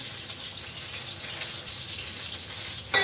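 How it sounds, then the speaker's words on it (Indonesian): Chicken pieces fry in a pan while lunch is cooked, giving a steady, close sizzle with a fine crackling hiss that holds evenly throughout, with no talk. "Nah ini ayamnya kita goreng."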